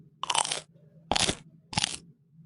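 Teeth bite and chew through something crunchy in three distinct, close bursts spaced apart, with quiet pauses between and no talking.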